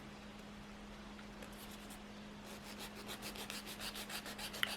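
Nail file shaping false nails, soft scratchy rubbing strokes that start faint and grow into quicker rhythmic scraping toward the end, close up, with no talking and a steady low hum underneath.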